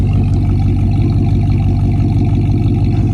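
A 5.9L engine fitted with new mufflers idles close by with a loud, steady, deep rumble that has a rhythmic low-end pulse and no pause.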